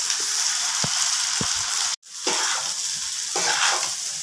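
Rice fries in hot oil with cinnamon, cloves and cardamom, giving a loud, continuous sizzle close by, broken by a brief pause and a few soft spatula clinks and scrapes.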